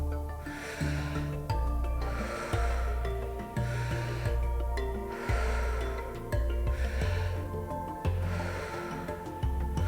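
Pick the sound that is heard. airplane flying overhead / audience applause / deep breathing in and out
deep breathing in and out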